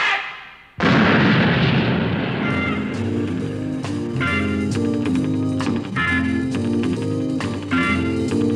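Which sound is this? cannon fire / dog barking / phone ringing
cannon fire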